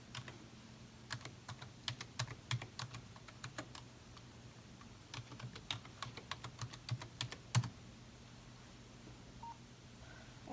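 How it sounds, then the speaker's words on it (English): A patient's name being typed on a computer keyboard at a medication administration record, producing scattered and clustered key taps with a few louder strokes over a steady faint hum, without talking. "I'm going to type my patient's name in"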